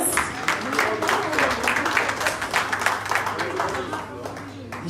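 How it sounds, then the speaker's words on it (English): Continuous clapping from a crowd at a town hall meeting and fundraiser, lively and even, with a voice speaking faintly beneath the applause. "can we have a round of applause for Comrade Joe?"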